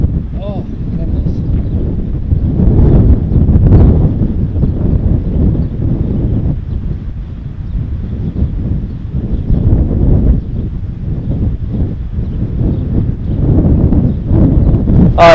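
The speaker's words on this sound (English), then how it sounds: "you gotta love living on a farm when it's so windy" Strong wind on a muddy farm, roaring and buffeting against the microphone in heavy gusts throughout, loud and close, with a person speaking partly beneath it.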